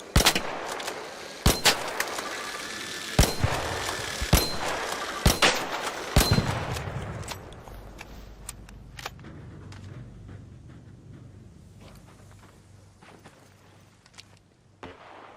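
Gunfire in the video game Arc Raiders: a string of sharp, loud single shots spaced about a second apart, then a few fainter scattered shots trailing off into low rumbling ambience.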